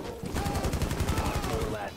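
Rapid automatic gunfire rattles in a video game match, a fast even stream of shots filling the moment, loud and close.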